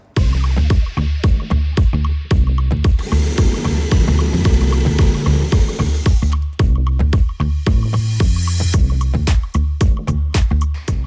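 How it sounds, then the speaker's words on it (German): A loud power drill with a 10 mm bit grinds through metal rivet heads on a Seat Ibiza 6F door in repeated bursts, with rattling clicks and the motor whining steadily throughout. "Da braucht man jetzt einen 10er Bohrer, um die Köpfe mal wegzunehmen."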